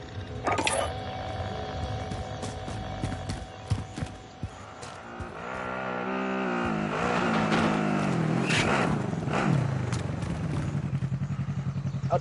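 A car driven in Fortnite, its engine humming and then revving up into a loud steady drone, with clattering knocks and bumps in the first few seconds.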